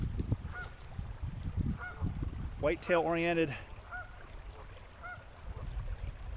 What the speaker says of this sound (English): there's 2 geese downriver from me scolding me